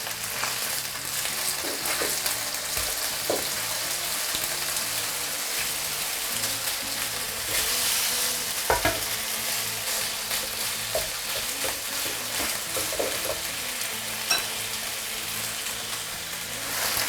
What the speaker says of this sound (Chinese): 好，我们让这个皮定型之后呢，给它翻面煎另一面。